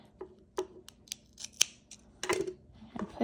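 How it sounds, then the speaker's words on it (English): Scissors snipping through yarn while making a tassel, a few crisp close cuts and clicks of the blades spaced irregularly, quiet room with no speech. "cut my yarn"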